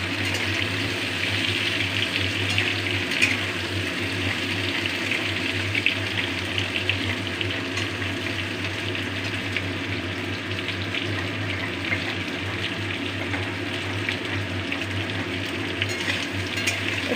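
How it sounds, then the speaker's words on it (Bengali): Potato and pointed gourd fry together in a pan, producing a continuous, even watery sizzle with a low steady hum underneath, close and unbroken for the whole stretch. "আলুটা পটলটা একসাথেই ভাজতে একটু টাইম লাগবে"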